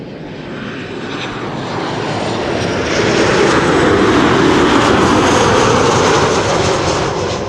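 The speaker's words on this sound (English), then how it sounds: "Flight 361 arriving from Bucharest, 737-800." A Tarom Boeing 737-800 airliner arriving at Schiphol Airport, a loud broad jet engine roar that swells steadily as the plane passes close, then holds near its peak and eases slightly at the end.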